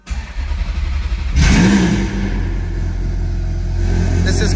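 A Ferrari 430 Scuderia with a Capristo exhaust fires up in an enclosed garage with its valves closed, a loud starter burst settling into a steady, deep idle that fills the space.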